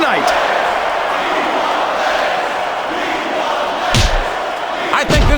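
Wrestling arena crowd in the video game Smackdown vs RAW 2006, a loud continuous roar of chanting and cheering throughout, with a couple of sharp slams or thuds near the end.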